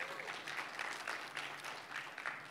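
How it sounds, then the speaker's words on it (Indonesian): Church congregation at Jakarta Rock Center clapping for the worship team, a faint, quick patter of hands that stays fairly even for a couple of seconds, as if heard from some distance. "Tepuk tangan buat mereka dong."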